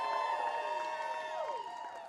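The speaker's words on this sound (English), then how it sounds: "Give yourselves a round of applause." A rally crowd in Tallahassee cheers and whoops with shouting voices, a dense, steady roar of many people that fades slightly toward the end.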